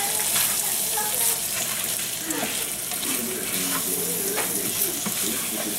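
Diced tomatoes, drained, sizzle and hiss in a frying pan for chimichanga filling while being stirred, a steady close frying noise with soft scraping stirs and no talking.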